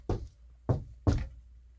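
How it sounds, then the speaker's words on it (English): Three distinct dull knocks from raccoons inside a wall, spaced roughly half a second apart, hollow and thumping, with quiet between them. "Thought it was squirrels, but it sound more like raccoons."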